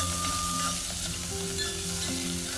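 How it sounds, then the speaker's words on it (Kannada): Chopped onions fry in hot oil in a pan while preparing fenugreek-leaf kadubu, giving a steady, close sizzle with crisp crackles throughout and no talking. "ನೋಡಿ ಅದು ಚಟಪಟ ಅನ್ನುವಾಗ ಈರುಳ್ಳಿ ಹಾಕ್ತಾಯಿದ್ದೀನಿ."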